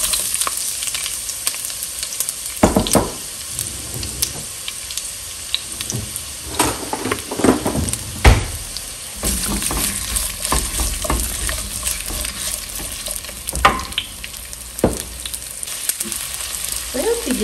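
Two small onions cut in half-moons and two quartered garlic cloves fry in a splash of oil in a pot, a steady crackling sizzle with scattered clatters of stirring and a few sharp knocks.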